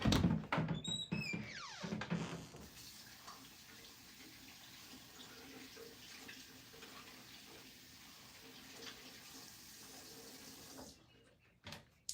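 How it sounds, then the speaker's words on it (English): Hands are rinsed under a running tap to wash off sticky rhinestone transfer residue. A few knocks open the clip, then water flows steadily and close by for about eight seconds before shutting off. "let me go rinse my hand because I gotta get these little stickies off me"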